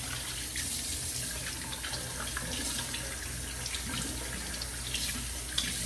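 Tap water runs steadily into a sink before a wet shave with an Osiris Customs brush and Star Odyssey soap, a continuous close hiss with small splashy variations and no talking.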